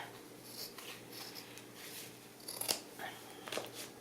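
Flower stems being snipped with scissors or shears while flowers are trimmed, soft close crisp cuts with a couple of sharper snips, faint and quiet.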